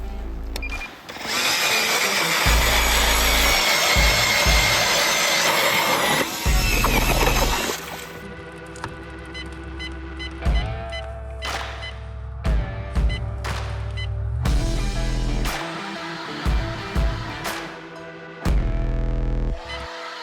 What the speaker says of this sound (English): Drilling our first hole.